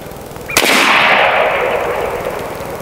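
An airgun fires once at a target range, a single sharp, loud crack followed by a long echoing tail that slowly fades.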